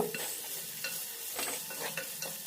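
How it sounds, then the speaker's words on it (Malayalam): Mustard seeds, ginger, garlic, green chili, shallots and curry leaves fry in hot oil for a Kerala anchovy curry, a quiet steady sizzle punctuated by a few crisp stirring scrapes. "കടുക് പൊട്ടി വരുന്ന സമയത്ത് നമ്മൾ അരിഞ്ഞു വെച്ച ഇഞ്ചി വെളുത്തുള്ളി പച്ചമുളക് ചുവന്നുള്ളി കറിവേപ്പില ഇത്രയും സാധനങ്ങൾ ഇടുക"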